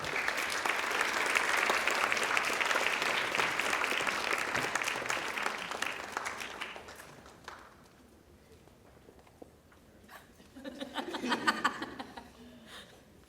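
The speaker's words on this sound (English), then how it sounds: "Can we give one more round of applause for the Tri-M inductees?" An audience applauds the inductees at a school music night and Tri-M honor society induction ceremony. A loud, sustained round of clapping lasts about seven seconds, then dies away, and a voice speaks briefly afterward.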